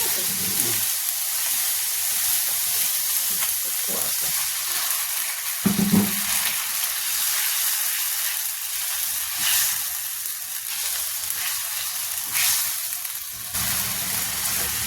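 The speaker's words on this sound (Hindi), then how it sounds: "इससे थोड़ा सा इसको पानी डाल के पका देते हैं।" Ginger, garlic and onion paste with added water sizzles steadily in a pan, a continuous close frying hiss with occasional stirring scrapes.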